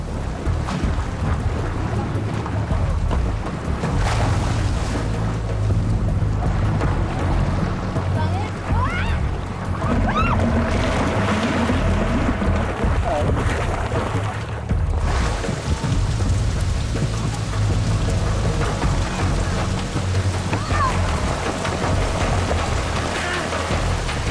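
Open-ocean waves rolling against a bamboo raft off Coron in a growing storm, with constant wind buffeting and rushing water at close range, loud and unbroken.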